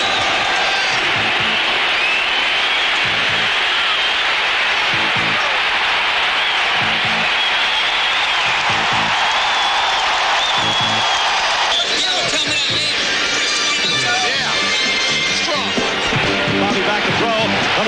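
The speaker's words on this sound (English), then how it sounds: "Listen to the roar of the crowd here at the Silverdome." A crowd of about 65,000 roars at a 1983 Michigan Panthers football game in the Silverdome, a loud continuous wall of cheering and applause with a rhythmic thumping beat underneath and voices talking over it, swelling toward the end.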